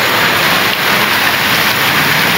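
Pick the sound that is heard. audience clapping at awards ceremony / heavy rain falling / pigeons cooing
heavy rain falling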